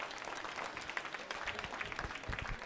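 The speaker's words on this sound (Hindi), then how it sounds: "जोरों से बजाइए, तालियां बजाइए।" Audience applause at a Diwali music-lovers quiz show, a steady, fairly quiet wash of clapping across the whole stretch with no break.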